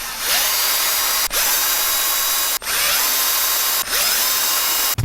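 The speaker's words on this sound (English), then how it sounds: "So I've got a 2 millimeter hex driver loaded in my pocket driver." Electric pocket driver with a 2 mm hex bit spins screws out of an Arrma Kraton EXB RC car differential in four close, steady whirring bursts separated by brief stops, heard alone.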